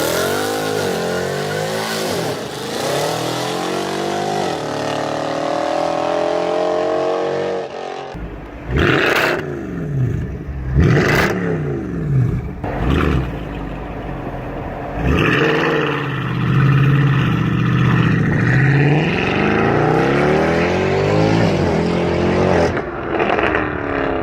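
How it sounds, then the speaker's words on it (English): A Mercedes W204 C63 V8 engine revs hard up and down repeatedly, loud and close, with deep burbling rises, sharp throttle blips and a rumbling idle between pulls. "it's one of the best sounding V8s ever made"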